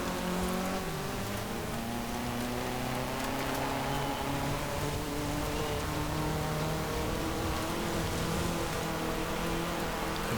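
Car engine revving hard off-road in Forza Horizon 4 during a rally seasonal championship, rising and falling through gear shifts over continuous gritty gravel and tyre noise, steady and loud throughout.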